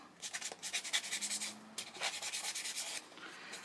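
Quick, soft rubbing strokes of sanding on cardstock, a rhythmic series of light scratchy swipes, close and fairly quiet.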